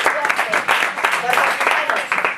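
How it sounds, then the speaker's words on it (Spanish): Audience at a talk breaking into applause, a dense, steady patter of many hands clapping fairly close, with voices mixed in under the clapping. "Un aplauso para ellos que han tenido esa suerte"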